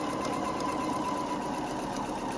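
A sewing machine stitches a dress seam with a continuous, even mechanical whir close up, steady throughout with no voices.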